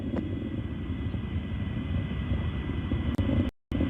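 Steady, loud low rumble of a rocket engine during a launch broadcast a minute into flight, heading downrange, continuous with a brief dropout near the end.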